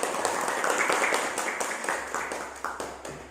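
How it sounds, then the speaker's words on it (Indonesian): Classroom applause for a student group, a dense wash of many hands clapping at once, steady and fairly loud throughout with no clear talk over it. "Oke, beri aplaus untuk kelompok 4."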